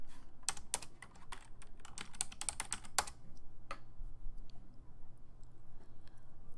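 Fingers typing a username and password on a computer keyboard: a quick burst of crisp clicking keystrokes for about three seconds, then a single isolated tap, close and fairly quiet over faint room hum.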